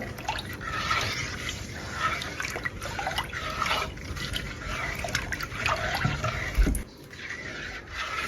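700 ml of water is poured and stirred into a palm-sugar pudding mixture, making a continuous close sloshing and trickling of liquid with soft spoon scrapes and one brief clunk near the end.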